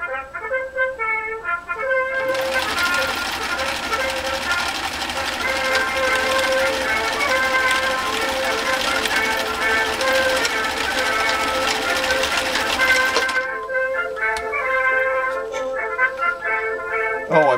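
A Husqvarna Viking sewing machine stitches steadily in a fast, even mechanical whir that runs for about eleven seconds, with quieter handling noises before and after.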